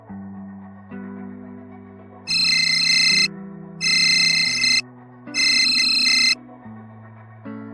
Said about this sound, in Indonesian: Alarm telepon terus berdering.